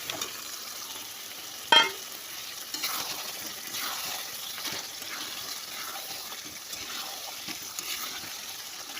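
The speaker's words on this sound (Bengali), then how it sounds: "আমি দেখো ভেজে রাখা আলুগুলো দিয়ে দিচ্ছি" Fried potatoes go into a pan of meat curry, giving soft sizzling and stirring scrapes with a sharp clatter near the start, fairly quiet and without voices.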